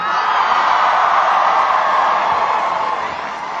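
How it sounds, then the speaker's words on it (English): A large rally crowd at Michigan State University roars and cheers in a steady, loud wash of noise for Governor Jennifer Granholm, sustained throughout without clear breaks. "Please give a huge round of applause to Governor Jennifer Granholm"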